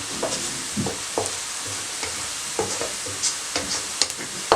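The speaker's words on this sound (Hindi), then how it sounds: "चंद सेकंड के लिए मैंने ज़ीरा को फ्राई किया।" Cumin seeds fry in hot oil with a soft, steady sizzle, broken by repeated light scraping and stirring clicks.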